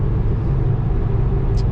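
A truck rolls along an icy Michigan road, a steady loud low engine and road rumble heard from inside the cab, constant throughout with no voices.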